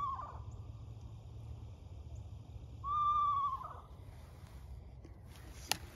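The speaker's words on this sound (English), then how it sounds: "descending pitch whinny call that lasts for a half to 2 seconds long" A single short descending whinny call of an eastern screech owl, clear and fairly close, rings out against a quiet background with faint ambient hiss.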